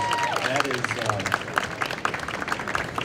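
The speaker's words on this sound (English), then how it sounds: "So give him a round of applause." Scattered audience clapping for a theme park president at a trade show, individual claps distinct and spread out rather than dense, with a voice talking over the start.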